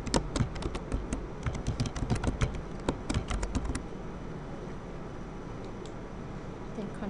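Fast, close-up typing on a computer keyboard: a busy run of crisp key taps for a few seconds, then the keys stop and only faint room tone remains.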